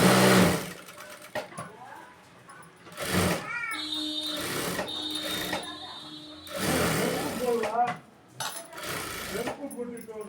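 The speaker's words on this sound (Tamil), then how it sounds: "இப்போ உள் சைடு திருப்பிட்டு இந்த லைனிங் ஓரத்துலேயே தையல் போட்டுவாங்க." A sewing machine stitches along the lining edge of a blouse in several short, close bursts of rapid needle clatter. Pauses between the bursts carry handling noises, and someone talks between the runs.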